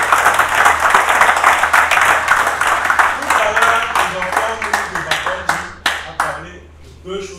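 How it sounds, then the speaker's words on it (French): Loud, close audience applause for a doctor at a talk on success, dense clapping that gradually thins to scattered individual claps and dies away, with voices underneath. "Si on peut applaudir très fort pour le docteur."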